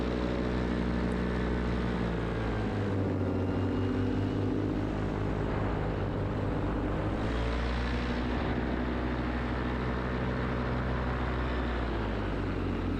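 A paramotor's engine and propeller drone loudly and continuously in flight, a close, steady buzzing roar with little variation.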